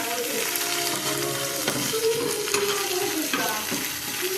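Onamīn fish sizzling as it fries in a pan for a Tulu-style sukka, a dense continuous crackle with occasional stirring clatter and utensil knocks, close and moderately loud.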